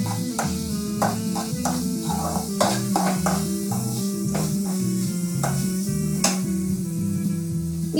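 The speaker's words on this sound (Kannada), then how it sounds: "ಇದು ಸ್ವಲ್ಪ ಹಸಿ ವಾಸನೆ ಹೋಗ್ಬೇಕು, ಅಲ್ಲಿವರೆಗೆ ನಾವು ಫ್ರೈ ಮಾಡ್ತೀವಿ" Frying in a pan sizzles steadily for a rava aloo sandwich filling as it cooks off its raw smell, with regular scrapes and taps of a spoon stirring against the pan throughout, and no talking.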